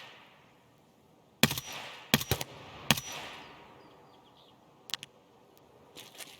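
Gunfire in the video game Escape From Tarkov: several loud bursts of shots come in quick clusters with a fading echo, then fainter distant shots follow. No speech.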